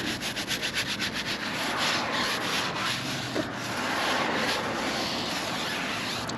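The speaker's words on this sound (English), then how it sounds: "you're going to take your brush, and you're going to scrub and scrub" A brush scrubs a car wheel by hand, rapid rhythmic rubbing strokes at first that blur into a steady close scratching wash, with a faint hum beneath.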